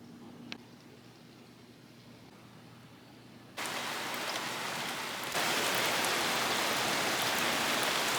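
Heavy rain during a drive, a steady roar of drops beating on the car that jumps louder twice, growing into a dense, close downpour with no talking.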